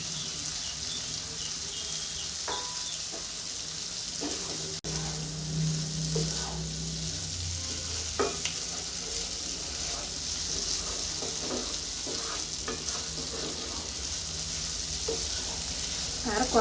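Pre-fried cauliflower and potato pieces go into a pan and fry with a steady, moderate sizzle and occasional stirring clatter, no talking.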